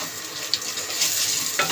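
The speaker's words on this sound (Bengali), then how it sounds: "নেড়ে চেড়ে রসুনটা ভেজে নেব।" Garlic fries in a pan with turmeric while being stirred, producing a continuous close hiss of sizzling oil broken by a few soft scraping touches of the spatula.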